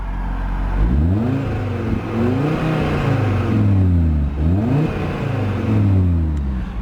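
A 2022 Audi RS3 Sportback Carbon Black Edition engine revving repeatedly up to its limiter around 4,000 RPM, with loud, close exhaust notes that climb, bounce off the cut and drop back in several rhythmic waves.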